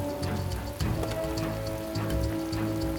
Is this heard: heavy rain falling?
yes